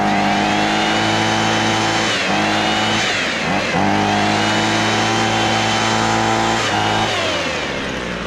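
A Ryobi gas-powered tool engine runs at full throttle, a loud, continuous, close buzzing drone with steady harmonics that dips briefly in pitch a few times before climbing back.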